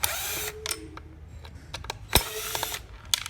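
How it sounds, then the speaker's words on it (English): Screws being backed out of the side mirror base on a 1991 Acura NSX, heard as faint clicks and a few short, sharp ratcheting taps at close range over a quiet background, with no talking. "You can go ahead and take these 3 screws out."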